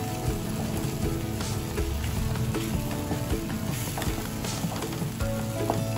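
Chopped tomatoes sizzle and crackle in hot oil, a steady frying hiss with occasional stirring clatter.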